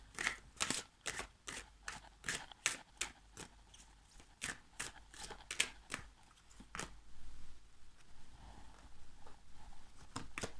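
Cards are shuffled by hand for a tarot-style card reading, a close, quiet run of crisp rhythmic snaps and riffles that speed up and slow down, with no talking.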